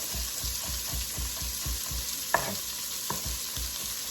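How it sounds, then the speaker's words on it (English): Vegetables fry in a pan for Swiss steak, a steady close sizzle pulsing with regular stirring strokes, plus a couple of sharp clinks of the spoon on the pan, with no voices. "We want to stir our vegetables."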